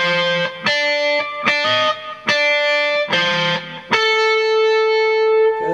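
Distorted electric guitar playing a blues lead lick in the fifth position, a run of picked and plucked notes ending on a sustained ringing note, close and loud with no talk.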